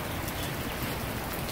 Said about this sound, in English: But it's raining, typical South Florida weather.